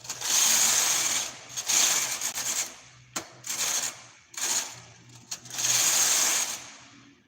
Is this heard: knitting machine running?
yes